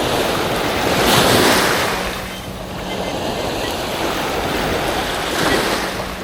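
Ocean surf waves washing in at the shore, a continuous loud roar that swells and fades in slow surges, mixed with heavy wind buffeting the microphone, no clear speech.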